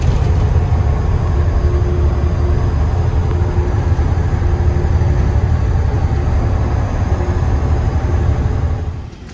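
A truck hauling a load of hay to a grain facility drives on with a loud, steady low engine drone and road rumble heard from on board, easing off at the very end.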